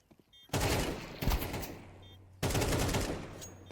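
Rapid automatic gunfire from Counter-Strike 2 gameplay, two loud close bursts of shots, each followed by a fading tail, with faint game sounds in the gaps.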